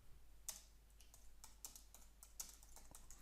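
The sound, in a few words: typing on a computer keyboard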